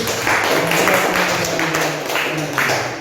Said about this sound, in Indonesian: kita tepuk tangan dulu untuk kelompok satu